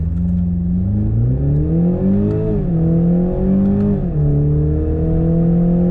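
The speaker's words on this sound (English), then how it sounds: "It's properly fast, it's punchy all the way through the rev range, and it sounds pretty good for a 4-cylinder." The turbocharged four-cylinder engine of a 2019 BMW Z4 revs up and down in repeated rising and falling sweeps, loud and close, with no talk.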